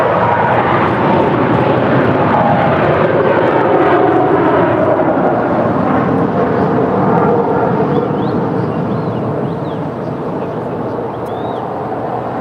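Jet airliner engines roar on a runway at LAX, a loud, continuous broadband rush that holds steady throughout, with faint radio voices underneath.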